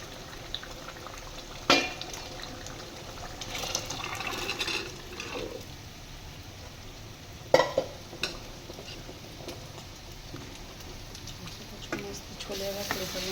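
Chickpeas (chole) simmering in gravy in a pot, bubbling and sizzling steadily with a few sharp clinks and stirring knocks, while a person talks over the cooking.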